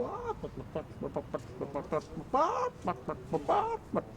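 A chicken clucks through a music track, giving a rapid run of close, punchy clucks and a few longer, squawkier calls with irregular rhythm.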